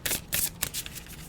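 Tarot deck shuffled by hand for a card reading, a quick run of crisp riffling bursts, close and clear, with no talk.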